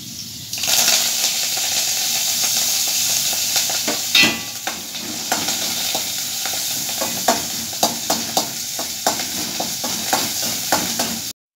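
Pointed gourd (potol) frying in oil in a wok, a loud steady sizzle close up, with a spatula stirring and scraping in sharp intermittent clinks, no talking.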